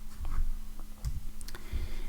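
A few scattered clicks of computer keyboard keys, close but soft, set apart by short pauses over a low steady hum, with no talking.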